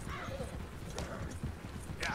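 A horse's hooves clip-clop at a steady pace in the Red Dead Redemption video game, a brisk rhythmic patter mixed with voices talking.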